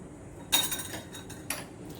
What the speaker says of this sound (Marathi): आता आपल्या ह्याच्यामध्ये बर्फ घालायचा आहे.